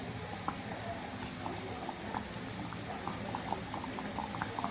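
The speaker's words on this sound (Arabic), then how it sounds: "وكده بقى هنبص على المربى اهيت خلاص قربت تستوي" Homemade Barsha fig jam boiling in a pot, a dense, continuous bubbling and popping simmer heard close up at a steady moderate level, with no one talking.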